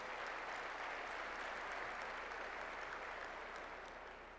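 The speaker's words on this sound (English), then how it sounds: "Please applaud if you were not a part of EMC 3 years ago." Dense, continuous applause fills the room at a corporate EMC meeting, a steady wash of many hands that eases off slightly toward the end.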